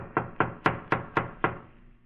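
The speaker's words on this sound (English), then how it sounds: "I better knock again." Six firm knocks on a door land in a steady, evenly spaced rhythm, loud and close, each a crisp thud with a short ring, then silence.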